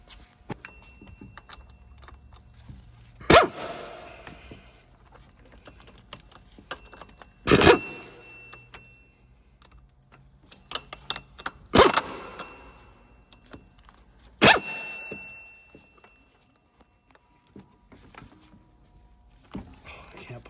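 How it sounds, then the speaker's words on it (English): An air ratchet spins off the water pump pulley bolts on a 2011-2015 Chevy Cruze 1.4T, giving four short, sharp bursts of whirring spaced a few seconds apart, with faint clicks and shop handling noises between them. "I'm going to use an air ratchet."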